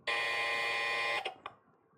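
A game show buzzer sounds on a French Christmas quiz program, one loud sustained electronic tone lasting about a second, followed by two short tonal blips that fade out.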